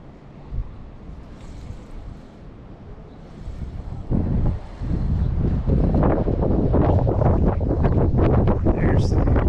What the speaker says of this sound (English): There's some wind coming back.